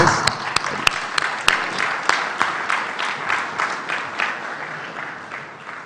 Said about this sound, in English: a round of applause for everybody sitting on the dais